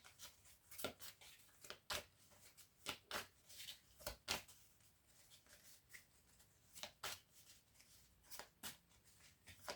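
Tarot cards are shuffled by hand in a quiet room, a steady run of crisp, close riffling snaps and soft slides repeating irregularly throughout.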